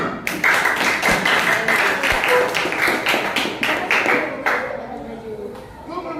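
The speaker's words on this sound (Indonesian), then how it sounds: "Beri tepuk tangan untuk kelompok 6." Classroom applause for a student group that just presented, a burst of clapping from many hands that thins out and fades toward the end, with voices mixed in.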